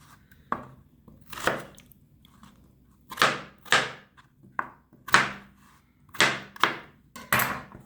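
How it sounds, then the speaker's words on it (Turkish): Knife chopping potatoes into large pieces on a board, a series of sharp close thunks in uneven bursts, roughly a dozen strokes with brief pauses between. "Bunları iri olacak şekilde doğruyorum."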